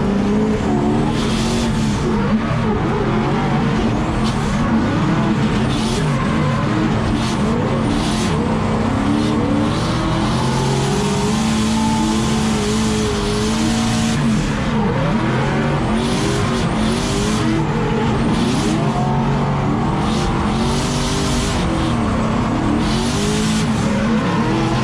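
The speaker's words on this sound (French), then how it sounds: "c'est parti pour le round numéro 2" Drift cars race on a Bordeaux Mérignac track, engines roaring continuously while tires squeal and skid at length, loud and sustained throughout.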